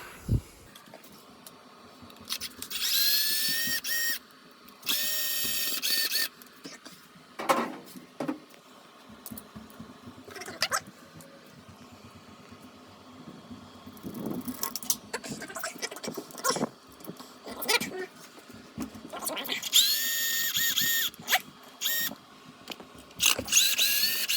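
A power drill removes screws from the back plate of a dryer power outlet in several short, loud whirring bursts separated by quieter handling clicks and rattles, with no voices.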